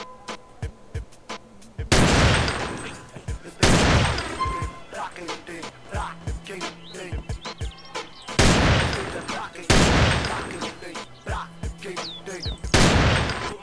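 Gunfire from a golden camouflage-patterned gun in GTA San Andreas, with loud, close shots arriving in bursts every couple of seconds, each followed by a ringing tail and lighter game sounds in between.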